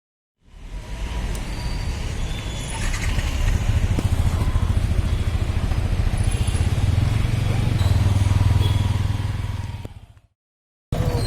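Motorcycle engine running at night in a city, a steady loud rumble close by with some clatter, holding for several seconds before cutting off.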